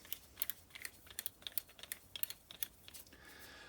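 A Suzuki Burgman remote adjustable preload adjuster gives a quick series of sharp, close clicks as it is backed all the way out, irregular in spacing, with a faint steady hiss at the end.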